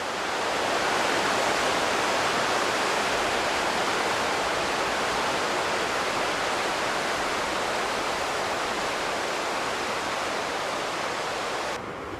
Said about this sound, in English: get a bird's eye view of the Bunaboo River as it cascades 210 metres off the New England escarpment